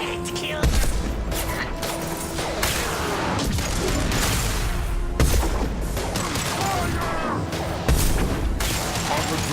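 Gunfire in the video game Mass Effect 2 comes as loud, dense bursts and booms over continuous battle noise, with voices talking throughout.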